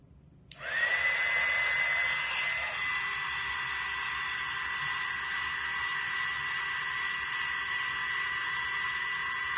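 A hair dryer drying paint on a reindeer ornament switches on with a click and runs as a steady whooshing whine, its pitch dropping slightly after a couple of seconds, then holding.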